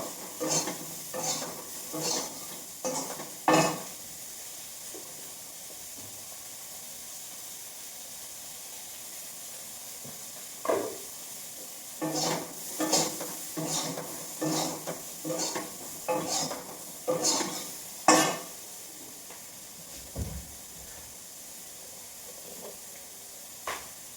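Cauliflower frying in a generous amount of oil in a home kitchen pan, with steady soft sizzle and bursts of stirring and scraping clatter that come and go, near and moderately loud, with no talk.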